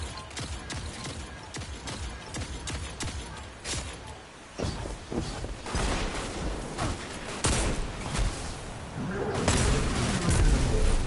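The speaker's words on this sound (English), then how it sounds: "Rocket launcher." A Destiny 2 rocket launcher fires and its explosions follow, mixed with bursts of gunfire and mechanical clatter in a dense, loud firefight. The rumble builds toward the end.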